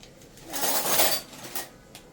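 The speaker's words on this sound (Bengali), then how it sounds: "যে মশলাটা হয়ে গেছে হ্যাঁ চামচ দিয়ে নাড়া দাও" A spoon stirring a spice mix in a metal pot, a scraping, clinking swirl that swells to a peak and then fades, followed by a couple of lighter knocks, close and unaccompanied by talk.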